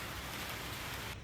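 Steady rain drums on a greenhouse roof, a dense, even hiss of drops with no pauses, loud and close, cutting off abruptly at the end.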